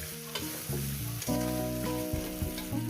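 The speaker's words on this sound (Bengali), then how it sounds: "এবার এটাকে সুন্দর করে কষবো মিনিমাম তিন চার মিনিট ধরে" Spice paste for a parshe fish curry with taro sizzles and is stirred in a hot pan, a close, continuous frying hiss broken by scraping stirs.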